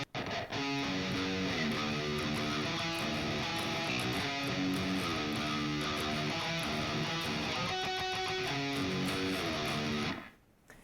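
Seven-string guitar riff, dense distorted heavy chugging with repeated chord stabs under a constant wash of noise, loud and sustained before cutting off near the end.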